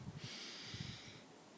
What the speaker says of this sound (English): that inhale